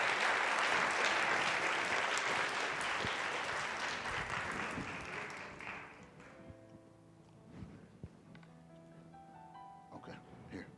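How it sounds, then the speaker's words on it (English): Audience applause at a mental illness discussion panel swells loudly for about six seconds as panelists head to the stage, then fades out, leaving scattered footsteps, thuds and light movement with faint talk. "give these 3 people a round of applause as they make their way to the stage"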